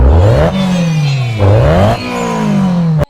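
Motorcycle exhaust revving in repeated rising and falling bursts, loud and close, each rev swelling then dropping before the next, ending with a sharp cutoff; no talk over it.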